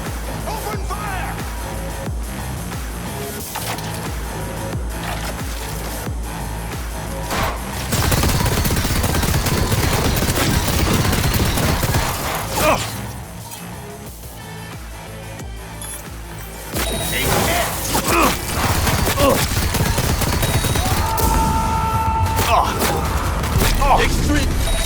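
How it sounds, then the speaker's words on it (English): Gunfire in Cyberpunk 2077 Phantom Liberty, sustained loud bursts of weapons fire with dense, layered crackling, rising and falling in intensity among other game effects and voices. "Open fire!"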